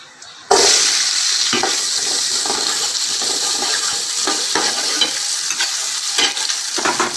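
Onions hit hot oil for a mushroom biryani with a sudden loud hiss, then keep frying in a steady, bright sizzle broken by occasional scrapes of stirring, close and without talk.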